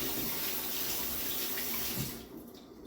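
A steady rush of tap water runs as something is rinsed under the faucet, loud and continuous, then tapers off and stops near the end.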